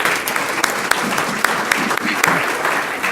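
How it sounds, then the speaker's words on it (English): Loud, dense applause from the audience at a school district governing board meeting, many hands clapping steadily throughout with a few sharper claps popping out and a faint murmur of voices underneath. "One more round of applause for them."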